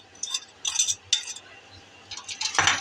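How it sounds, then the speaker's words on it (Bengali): Spices being stirred and sautéed in a pan for stinging catfish curry, bursts of metal spoon scraping and clinking against the pan in irregular strokes, close-up with no voices. "এখন ভালো করে কষাবো।"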